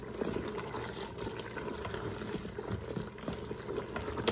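Curry cabbage soup with cayenne pepper being stirred in a pot, a steady wet bubbling and sloshing of liquid with soft scraping, close and continuous with no talk.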